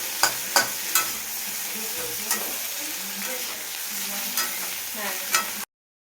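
Potatoes fry in a home pan at night, a steady sizzle with repeated sharp clicks of a utensil stirring and scraping the pieces, close and fairly loud, ending abruptly.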